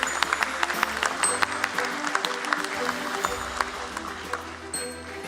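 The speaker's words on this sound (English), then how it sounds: "Let's have a big round of applause" An audience at a stock exchange listing ceremony applauds, a steady round of clapping with sharp individual claps standing out, holding at moderate loudness throughout.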